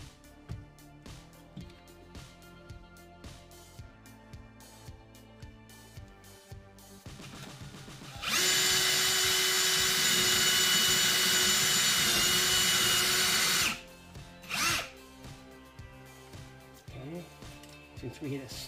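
A cordless drill from a Ryobi tool setup bores into a wooden wall stud, a loud steady whine that runs for about five seconds, then a short second burst, with quieter workshop handling sounds around it.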